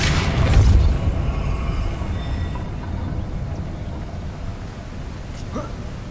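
A Depulso force spell from Hogwarts Legacy lands as one heavy, booming blast up close, then a low rumble trails off and fades beneath faint ambient tones.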